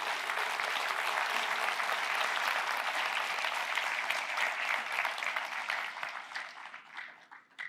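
A church congregation breaks into dense, loud applause that holds steady and then thins out toward the end.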